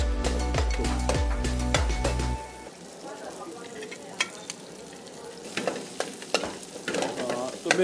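Chicken dry fry sizzles in a pan while being stirred, with a steady frying hiss and repeated scraping strokes at first, then lighter sizzling punctuated by sharp clinks of the utensil against the pan.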